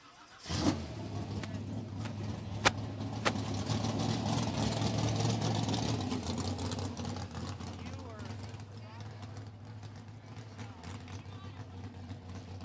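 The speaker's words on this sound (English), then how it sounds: "He's gonna move the car to the winner's circle more." A car rolls slowly into the winner's circle at a racing bracket event, its engine idling and revving low with steady rumble throughout while people talk over it.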